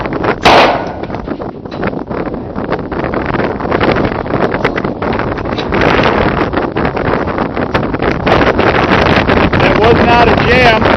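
Strong gusting wind buffets the microphone at an outdoor range, a loud continuous rumble while an 11-year-old fires a Hi-Point C9 pistol, with a sharp shot cutting through early on.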